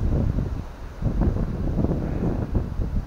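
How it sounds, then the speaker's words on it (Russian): Low, rumbling wind gusts buffet the microphone in uneven surges, with a faint watery wash beneath, on the Uda River beside a feeder fishing boat. "Ветер продувает."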